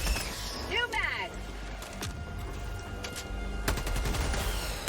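Bursts of machine gun fire in the video game Helldivers 2, fighting bugs near a bug nest. Rapid crackling volleys come at the start and near the end, with a shattering crash and game sounds in between.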